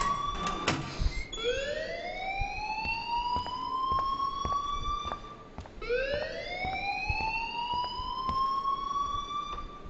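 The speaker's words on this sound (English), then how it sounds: "please turn off that alarm since that's your job" A school alarm rings in the video game Life Is Strange: two long, rising siren-like wails in sequence, loud and clear, with sharp clicking noises scattered through them.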